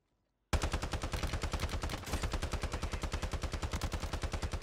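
Sustained automatic gunfire in Call of Duty Warzone on Rebirth Island: a loud, rapid, even stream of shots that bursts in after a moment of silence and continues without a break.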